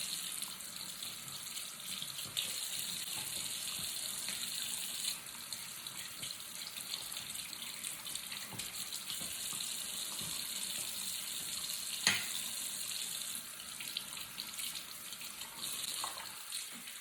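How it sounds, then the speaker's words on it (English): Warm tap water runs steadily into a sink while makeup brushes are rinsed one by one, a continuous close hiss with small splashing changes and no talk. "rinse them really quickly under warm water."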